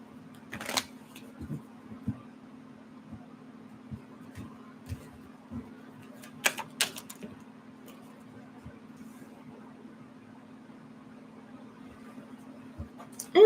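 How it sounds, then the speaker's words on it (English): Tarot cards are shuffled in a quiet room, with sparse soft riffles and taps scattered over a steady electrical hum, plus a couple of sharper clicks; faint and intermittent, with no talking. "Let me get one more shuffle."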